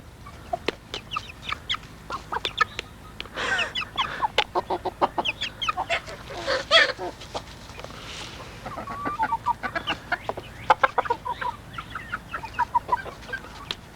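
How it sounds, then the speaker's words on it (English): Chickens cluck in a loose, irregular patter, with sharp pecking taps on a water bucket scattered through the clip, all close by, on a farm. "These guys are pecking on the bucket."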